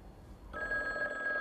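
A telephone rings in a quiet indoor room in a TV drama scene, a steady electronic trill that starts partway through and continues, moderately loud, with no talking over it.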